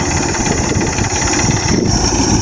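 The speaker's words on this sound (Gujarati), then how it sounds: "આ ટ્રેક્ટર તો નીકળી જવાનું અડધું જ નીકળી ગયું" A tractor engine pulling out of a farm field, a loud, steady diesel chug running throughout with rough low-end vibration and no pauses.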